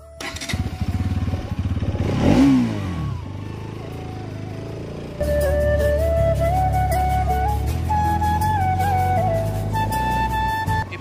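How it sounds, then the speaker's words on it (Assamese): A motorbike kicks or cranks into life with a rising starter whine, then settles into a loud, steady idle that revs slightly up and down, close by and with no talking over it. "এতিয়া বাইকখন ষ্টাৰ্ট দিব লাগে"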